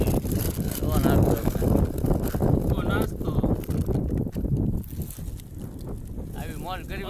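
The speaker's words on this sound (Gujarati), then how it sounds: "ફૂલ પવન છે ને ભાઈ, મમરા ઉડી જાય છે" Strong wind gusts roar and buffet the microphone outdoors beside a road, loud and continuous with some easing toward the end, while people talk underneath.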